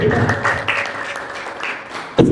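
A church congregation ululates and claps in praise, a dense wash of clapping with high trilling cries throughout, closing on a sharper burst.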